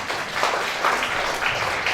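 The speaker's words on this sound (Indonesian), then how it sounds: "Ya, setuju, tepuk tangan dulu ya." A church congregation claps together during a Sunday communion service, a dense, steady patter of hands filling the room for a couple of seconds, with faint voices mixed in.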